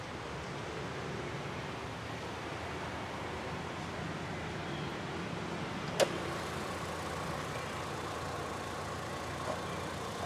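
A 2014 Toyota Fortuner with 104,000 km on it idles with its engine running: a steady, even rumble heard close with the hood open, with one sharp click partway through.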